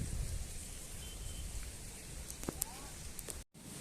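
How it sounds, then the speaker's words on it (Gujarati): Rain on a moody rainy day, a steady broad hiss of falling drops that holds throughout at moderate distance, with a few faint sharp knocks, and no voices. "આ પાછો પણ વરસાદ આવે આ તમે જો"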